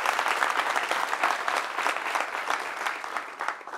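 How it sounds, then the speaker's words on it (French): An audience at a talk show in Côte d'Ivoire applauds continuously, dense clapping at steady loudness throughout, with no voices over it. "Applaudissements pour vous-même,"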